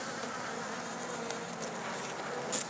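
Honeybees work at a wild hive in mid-April, giving a continuous close buzzing drone of many insects, steady throughout with a slight swell near the end and no voices.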